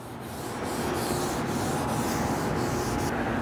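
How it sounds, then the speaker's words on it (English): An alcohol prep pad wiping the roof surface of a 3rd gen Nissan Frontier truck: a close, steady, continuous rubbing with faint rhythmic strokes throughout. "So I just have an alcohol prep pad here."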